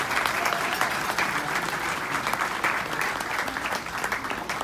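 A crowd at an award event gives a round of applause, with continuous, full clapping from many people lasting a few seconds.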